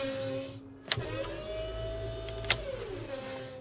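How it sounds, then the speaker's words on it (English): An electric hydraulic pump on a hook-lift roll-off dumpster truck starts with a click, hums steadily with a rising whine, then stops with another click, fairly quiet against low traffic rumble. "I'll turn it on, see if you can hear that pump start"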